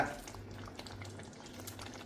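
Curry leaves being stirred into a Kerala-style okra (vendakka) curry in a pan, a steady soft scraping and gentle sizzle running throughout, close and moderately loud with no talking.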